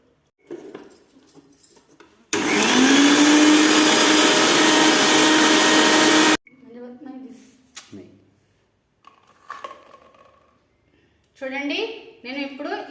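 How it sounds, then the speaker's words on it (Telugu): A kitchen mixer grinder grinding coriander without water, a loud steady whirring motor run of about four seconds between stretches of talking and soft clinks of utensils. "ఇప్పుడు నేను కొత్తిమీర మిక్సీ పట్టుకుంటాను."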